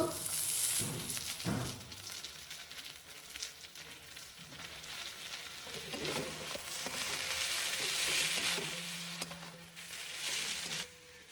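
Cabbage tossed into a pan of well-fried spice paste for a Bengali fish-head cabbage ghonto, giving a steady moderate sizzle with scraping stirs and a few clatters, continuous and unaccompanied by talk.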